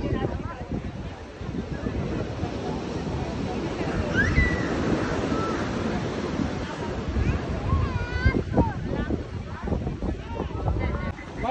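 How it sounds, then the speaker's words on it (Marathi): Big ocean waves on the Kerala coast roar continuously with heavy wind noise buffeting the microphone, a steady loud wash of surf throughout. "खूप मोठ्या मोठ्या लाटा आहेत."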